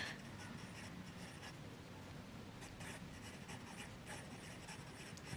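A Sailor Procolor fountain pen with an F nib writes on paper, a faint, steady scratchy rustle of strokes close up.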